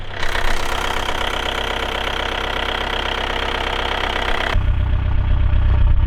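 An 862,000 km VW Golf engine running just after being started, a loud steady knocking idle that drops to a deeper, rumbling drone near the end.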